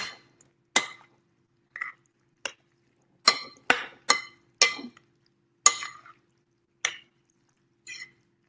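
A spoon stirring pasta in a pot gives about a dozen sharp, close clinks and scrapes against the metal, spaced irregularly with quiet gaps between them.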